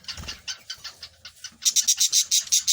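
Small high-pitched chirps come from a budgie chick hidden beneath its incubating mother, softer notes at first, then a rapid run of louder, close peeping calls near the end.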